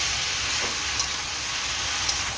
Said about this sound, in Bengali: অন্য কড়াইতে বড়ি ভেজে দিতে হবে।